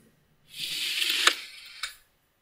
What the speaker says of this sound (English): three congruent sounds, which all reminded of moving clothes from a hanger or a clothing rack